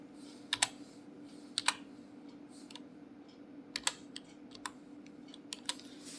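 Keys on a computer keyboard tapped in short clustered bursts while a captcha code is entered on a voter ID download site, with sparse clicks spread over several seconds above a steady low hum, no one speaking.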